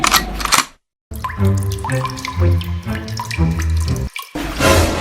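Water running from a tap into a sink, a loud, close gushing stream that stops briefly twice and starts again, with splashing and dripping and no voices.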